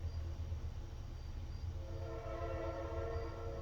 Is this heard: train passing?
yes